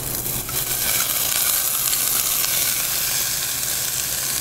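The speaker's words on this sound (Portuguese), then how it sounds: "Panela aquecida, azeite aquecido. Vamos colocar nossa proteína." Protein frying in heated olive oil in a hot pan, giving a steady, loud, continuous sizzle with faint stirring scrapes near the start.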